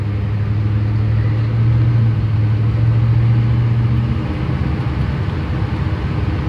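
A 1977 GMC truck engine runs with a steady low rumble, swelling louder for a few seconds as it revs before settling back to a lower idle, heard from close by throughout.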